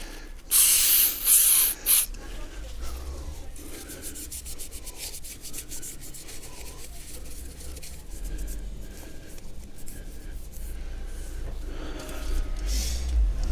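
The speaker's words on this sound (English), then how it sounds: "I'm just going to use brake cleaner." Aerosol brake cleaner sprayed onto a car engine surface during spark plug work, a loud hissing blast at the start followed by a long, steady rushing spray with scrubbing texture, close by and without voices.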